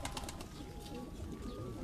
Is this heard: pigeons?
yes